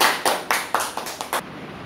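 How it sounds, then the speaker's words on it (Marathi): A handful of people clapping for a student in a school classroom, about seven or eight sharp, separate claps over under two seconds, close and uneven, without voices. "जोरदार टाळ्या याच्यासाठी."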